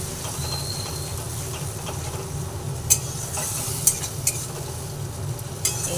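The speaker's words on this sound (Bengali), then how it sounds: "যে বাটিটাতে আমি টমেটো গ্রেট করে রেখেছিলাম সেই বাটিটাকে নিয়ে অল্প জল দিয়ে দিলাম ভালোভাবে আবার নাড়াচাড়া করে নিচ্ছি" A pan of curry with grated tomato and a splash of water being stirred, with a steady low bubbling simmer and a few sharp scrapes of a spoon against the pan.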